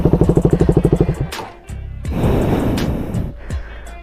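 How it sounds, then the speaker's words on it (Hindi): A used KTM 390 motorcycle engine is revved for a condition check, starting with fast even exhaust pulses, then dipping and swelling into a loud, rough, roaring rev up close. "आपको इस तरह कुछ रेव दे के एक्सीलेटर करके चेक करना है।"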